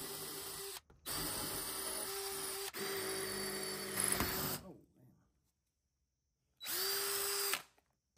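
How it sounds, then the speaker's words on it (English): A power drill whines loudly in long bursts, stopping and restarting, grinding into a cinder block; a short pause of silence falls between the last two runs. "This center block isn't too hard to drill into."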